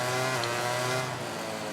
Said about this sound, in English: Using the engine braking all the time.